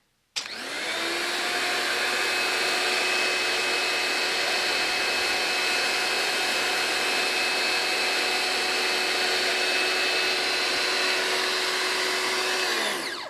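A pressure washer fitted with a soap nozzle runs steadily, its motor whine and spray holding a continuous, loud, even tone from start to finish with no talking.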